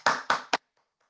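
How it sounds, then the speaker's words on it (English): Participants in an online parenting meeting give three sharp, close hand claps in quick succession, then near silence follows. "Please give her a round of applause"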